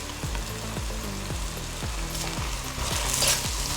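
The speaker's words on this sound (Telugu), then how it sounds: "ఇప్పుడు మనం దీంతో పాటు స్పినచ్ సపరేట్గా వేసుకొని దాన్ని కూడా వేయించుకోవాలి" Malabar spinach frying in a pan for a paneer butter masala, with a steady sizzle and a run of low, regularly spaced scraping knocks from a spoon on the pan, growing slightly hissier toward the end.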